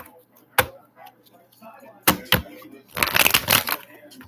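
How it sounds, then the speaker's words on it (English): Tarot reading cards are shuffled at close range, with a few sharp snaps and riffles followed by a longer burst of rapid, dense card flutter, and quiet talk in the background. "I'm just going to shuffle these cards real quick"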